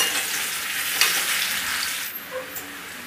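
Pieces of arbi leaf sizzle loudly in hot oil, a dense crackling hiss that holds steady throughout with a few soft pops.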